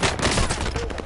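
Rapid burst of gunfire during an armed confrontation, dense overlapping shots filling the whole moment with loud, chaotic cracks and no clear gaps.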